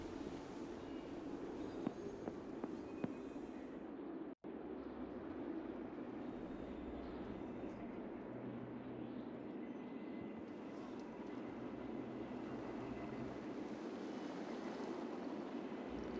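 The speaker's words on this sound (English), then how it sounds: "Got more patients coming on that train?" Train arriving in the video game War Hospital, a steady low rumbling roll with broad noise that runs for the whole span, loud and close, with no voices over it.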